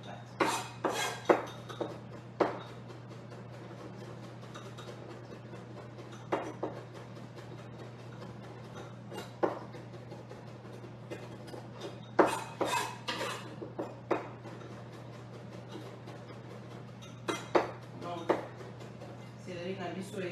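A knife finely chopping celery on a board, heard as scattered bursts of quick, close taps and knocks separated by quieter stretches over a low steady hum.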